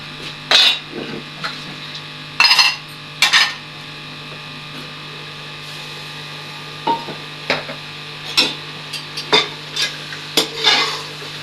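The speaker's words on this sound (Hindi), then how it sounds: "चावलों को निकाल लेते हैं परात में, इसी बर्तन में निकाल लेते हैं इसे" Cooked rice is scooped and clattered from a cooking pot into a large metal paraat, with a few sharp scraping and knocking bursts separated by quiet gaps over a steady low hum.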